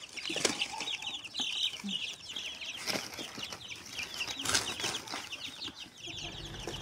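Chickens in a village setting cluck and flap their wings, with bursts of scratchy flapping over a busy, moderately faint farmyard background.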